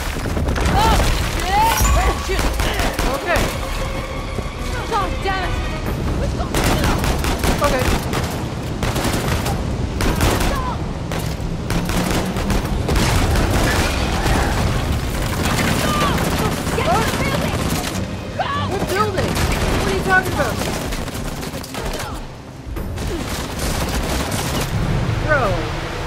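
Tank cannon blasts and explosions from Uncharted: The Lost Legacy ring out amid sustained heavy gunfire, with dense, loud booms and bursts continuing throughout, mixed with game effects and an occasional voice.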